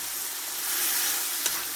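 Prawns and noodles frying in coconut oil give a steady, close sizzle that swells slightly midway, with a brief stir or clink near the end; no one speaks.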